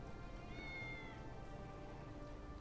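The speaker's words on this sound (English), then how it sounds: "I found the cat." A cat meows in the fantasy role-playing game The Elder Scrolls Online, a faint drawn-out meow over a steady, noisy game ambience, with nobody talking.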